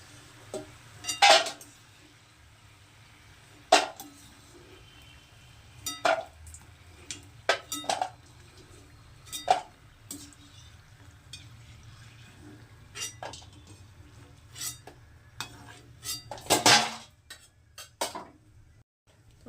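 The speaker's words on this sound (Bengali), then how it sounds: "এটা ভাজা হয়ে গেছে এবার এটাকে তুলে নেব" Metal utensils clink sharply against a frying pan as fried nimki pieces are lifted out of hot oil, a dozen or so scattered, close clatters over a faint steady sizzle, no talking.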